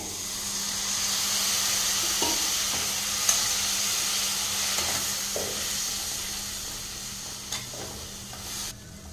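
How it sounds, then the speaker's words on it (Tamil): Cauliflower podi fry cooks in a pan with water just added, giving a continuous sizzle and steamy hiss broken by several light scraping knocks of a spoon stirring. "ஒரு நிமிஷம் நல்லா கலந்து விட்டுட்டேங்க இப்போ லைட்டாக ஒரு ஒரு ஸ்பூன் அளவு தண்ணி சேர்த்திக்கலாங்க"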